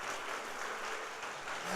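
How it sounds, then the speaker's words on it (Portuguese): A church congregation gives a brief burst of applause during a Sunday service, a steady wash of clapping hands heard from within the crowd. "Você pode dar um forte aplauso ao Senhor Jesus?"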